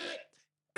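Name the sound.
cough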